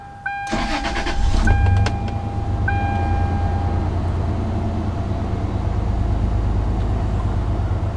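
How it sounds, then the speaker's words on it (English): A 2000 Toyota 4Runner's engine cranks and catches, then settles into a steady, loud idle with a low rumble and a faint tonal whine, heard up close with no talk. "I'm going to start up the truck"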